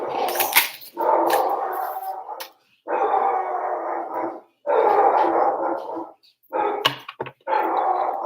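Dogs bark in a rough, sustained run of loud, close barks, broken by a few short pauses and sharp yips.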